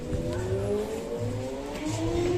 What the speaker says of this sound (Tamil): இங்கே சூப்பர் பைக் சவுண்ட்லாம் கேட்குது.